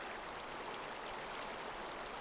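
Flowing water in Minecraft, a steady close rushing hiss like a stream, continuous and even, with no voices.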